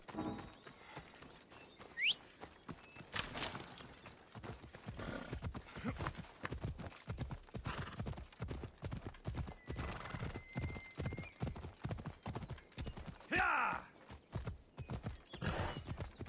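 Steady rhythmic clip-clop of hooves at a trot from a horse in the video game Assassin's Creed Odyssey, with the horse neighing briefly near the start and a louder whinny later on.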